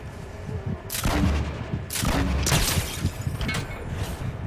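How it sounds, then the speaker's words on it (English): Rocket launcher fire in the game Fortnite, with a burst of heavy launches and blasts around the one- and two-second marks, followed by rumbling explosion tails and further thuds, loud and close. "Here's a rocket launcher."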